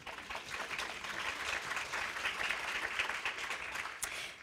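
Audience applause fills a lecture hall during a keynote talk at a Chagall exhibition: dense, sustained clapping from many hands, steady throughout and tapering slightly at the end.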